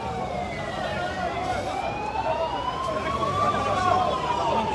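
An ambulance siren wails steadily with rising and falling tones over a dense background of traffic and protest crowd noise, with voices mixed in, near Mustapha hospital in Algiers.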